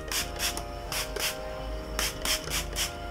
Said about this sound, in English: I'm going to spray my hair with a little bit of heat protector